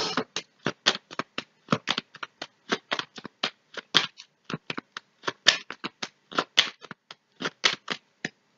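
A deck of cards being shuffled for a tarot-style reading, a quick run of crisp riffling snaps and soft slaps in steady bursts, close and clear with no voices.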